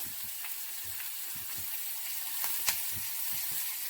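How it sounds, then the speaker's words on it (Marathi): Finely chopped medium onion frying in hot oil tempering for a pumpkin flower vegetable dish, a steady bright sizzle with faint crackles and a couple of small sharper pops, no talking. "आता हा कांदा टाक घातला जाणार आहे हो हा मध्यम आकाराचा बारीक चिरलेला"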